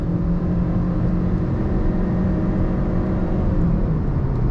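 A 2021 Honda Civic 1.6 i-VTEC CVT running on LPG accelerates at full throttle, giving a steady, loud engine drone and road rumble with little change in pitch.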